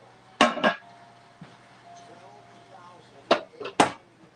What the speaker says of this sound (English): Got my roasting pan over here.